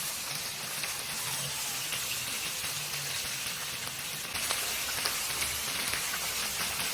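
Steady crackling sizzle of chicken liver frying in hot oil in a pan, continuous and fairly close, with no voices.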